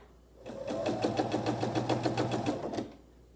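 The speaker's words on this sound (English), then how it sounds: "I'll use my pin to indicate which direction that I want to sew." A sewing machine stitches a scant quarter-inch seam on a sawtooth star quilt block, running in a close, steady burst of rapid rhythmic needle clatter for about two and a half seconds before stopping.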